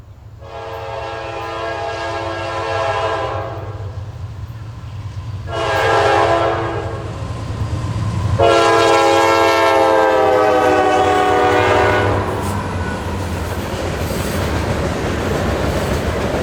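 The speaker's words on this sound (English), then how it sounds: "we caught another evening Allentown to Birmingham mixed freight 15T at Richland with a trio of standard cabs, two C40-9s and an SD70" A mixed freight train hauled by GE C40-9 standard-cab locomotives with an SD70 sounds its horn in three long blasts, the last the longest, over the rumble and clatter of the passing train outdoors at Richland.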